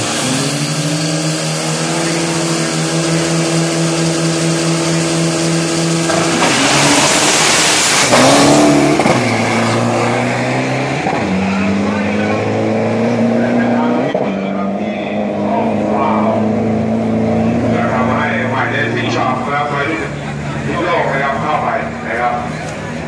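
Street race between Thai street-legal cars in a round of sixteen: loud engines rev and accelerate hard, one roaring burst rising then falling away, with a crowd or announcer voice talking over the noise.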